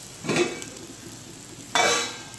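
Vegetables sizzle and fry in a pan ahead of salted, turmeric-coated fish, with two bursts of sizzling and stirring separated by a quieter stretch; no voices.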